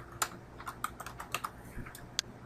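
Quick keystrokes on a computer keyboard as an IP address and scan settings are entered on a Windows 8 PC, irregular clicks in short bursts, close and fairly quiet with no talking.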